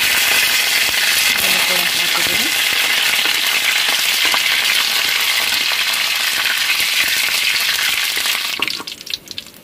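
Mustard seeds, chillies and curry leaves hit hot oil and give a loud, steady, crackling sizzle right up close. It drops away suddenly just before the end.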